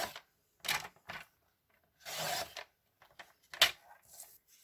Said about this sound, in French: On retourne d'un quart de tour et on vient couper à 2 cm.